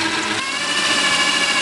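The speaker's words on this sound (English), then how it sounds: "You'll probably have a more powerful drill." Power drill boring through roof wood, a steady high-pitched whirring grind that holds close and loud for the whole stretch with no talk over it.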